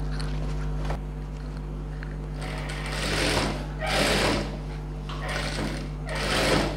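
A sewing machine stitches pattu pavadai fabric in several quick, close bursts of rapid mechanical chatter separated by short pauses, over a steady low hum.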